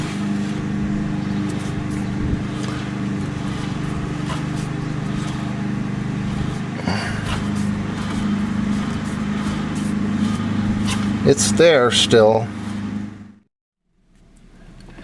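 A 1991 Mercedes 350SDL diesel engine runs steadily at close range with a low, even drone and faint ticking, then a brief rise and rattle before it cuts off into silence near the end; a voice speaks briefly.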